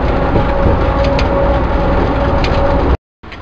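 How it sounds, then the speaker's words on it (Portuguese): An airport people-mover train carrying passengers to the car rental center in Miami, a loud steady rolling hum with a faint whine, cutting briefly to silence near the end. "é um trem que vai pro aluguel de carro"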